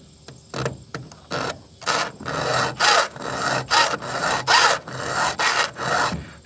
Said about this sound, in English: Sharpening the saw really ain't that hard.